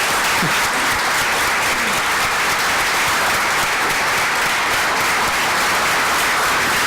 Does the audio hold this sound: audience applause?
yes